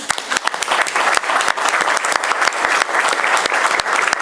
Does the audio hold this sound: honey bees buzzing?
no